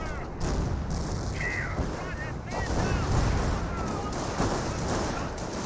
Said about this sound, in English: And here comes some artillery barrage as well.